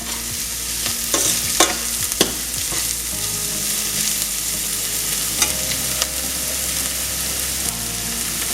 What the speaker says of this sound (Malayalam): നമ്മുടെ ഉള്ളി നന്നായിട്ട് വഴണ്ട് വന്നിട്ടുണ്ട്.